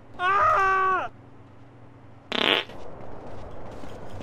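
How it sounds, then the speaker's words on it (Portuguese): Two loud, drawn-out farting noises with a buzzy, tonal quality from the video game GTA San Andreas, the first about a second long, the second shorter, separated by quiet. "Se liga no barulho do peido, galera"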